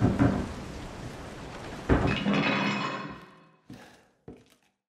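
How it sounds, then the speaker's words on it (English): Heavy booming impacts on a door in the horror game Resident Evil 7: a loud rumbling barrage for about three seconds, then two sharp isolated bangs with silence between, no voices. "the game trying to tell you where you should be going with loud banging coming from a door."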